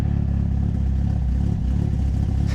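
A Mitsubishi Evo X engine idles while warming up on a cold morning, a loud, close, uneven and choppy rumble that pulses without a break and with no voices over it.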